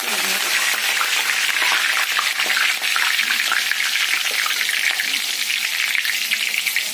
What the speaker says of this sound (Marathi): आपण कढीपत्ताही तळणार आहोत